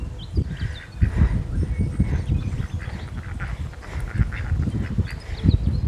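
Ducks quack in a garden, a steady low chorus of throaty calls close by, fairly loud throughout with no talking.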